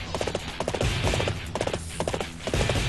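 Galloping horse hooves from Dynasty Warriors 8 drum in a fast, steady clip-clop rhythm over loud battle noise and a low rumble of combat throughout.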